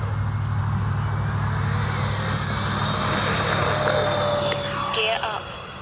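A radio-controlled A-10 Thunderbolt with twin 70mm electric ducted fans takes off, a loud whining jet-like whir rising in pitch and holding steady before easing off, with faint voices nearby.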